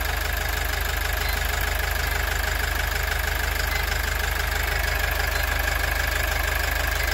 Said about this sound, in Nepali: अहिले त हामी फोटोनको इन्जिन स्टार्ट गरिसकेको छौँ काम कम्प्लिट गरेर।